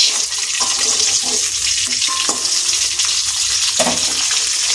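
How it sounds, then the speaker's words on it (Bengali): Hilsa fish frying in a pan gives a steady, fairly loud hissing sizzle with a few faint clinks and stirring sounds; no talk. "এখানে ইলিশ মাছ ভাজা হয়ে গেছে"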